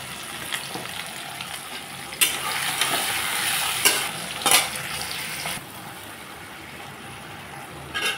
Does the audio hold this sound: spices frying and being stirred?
yes